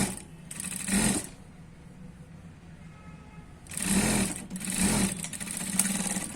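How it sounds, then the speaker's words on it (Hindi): A sewing machine double-stitches the seams of a Patiala salwar in four short, close bursts of rapid whirring stitching separated by quiet gaps. "आपको डबल सिलाई लगानी बहुत जरूरी है"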